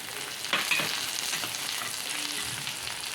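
Carrot, capsicum and peas stir-frying in a hot pan, a continuous close sizzle with spatula stirring and a sharper scrape or two near the start, no talking.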